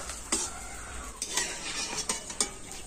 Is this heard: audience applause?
no